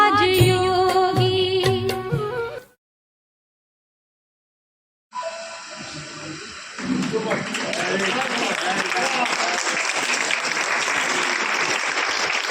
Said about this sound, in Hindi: बहुत सुंदर प्रस्तुति, जोरदार तालियां।